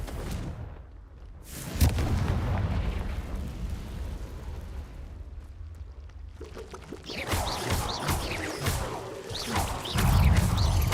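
Confringo blasting spell explosions from the Hogwarts Legacy video game, several loud booming blasts with rumbling crashes and crackling debris, dense and continuous, with no talking.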